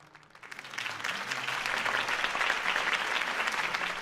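Audience applause in a Batman video game after Harvey Dent's campaign speech, a dense burst of clapping that swells in within half a second and holds steady and full, with no voices over it.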